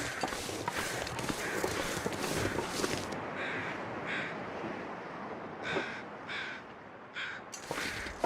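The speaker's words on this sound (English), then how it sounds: "That sounds sort of like the overhead crows." Crows caw overhead in a video game, several harsh calls repeating in bursts over a dense, steady background of game noise, moderately loud and without talking.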